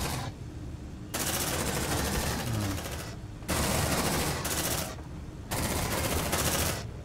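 Sustained bursts of pulse rifle fire in Aliens: Dark Descent roar in loud, dense volleys separated by short pauses, with no voices over them.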